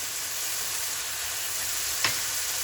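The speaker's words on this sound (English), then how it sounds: "And then you leave it to fry." Food frying in a pan on maximum heat, seasoned with pepper, salt, garlic powder and onion powder, giving a loud, steady sizzle that fills the whole stretch, with one brief tap near the end.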